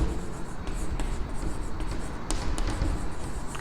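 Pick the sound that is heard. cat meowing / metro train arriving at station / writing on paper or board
writing on paper or board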